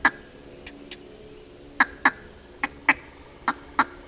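A duck call blown to imitate a contented hen mallard sitting in the woods or marsh: a sparse series of short, soft, clipped quacks, evenly spaced and close, with no talking.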